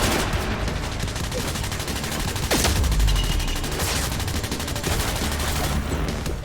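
Machine gun fire from the video game Quantum Break rattles in dense, rapid bursts across the whole stretch, loud and close, with a heavier blast near the middle.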